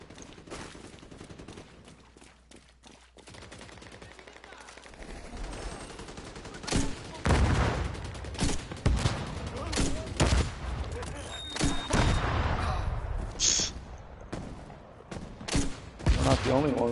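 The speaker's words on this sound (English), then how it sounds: "Shooting them." Video game gunfire rattles in dense, loud bursts and rapid volleys across most of the stretch, with players talking over the shooting.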